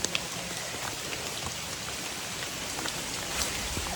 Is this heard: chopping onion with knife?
no